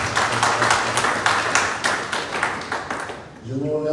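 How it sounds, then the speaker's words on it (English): Audience applause at a National Port Authority of Liberia ceremony, dense clapping with crisp individual claps, fairly loud, tapering off before a voice resumes speaking at the end. "On devrait pouvoir les applaudir"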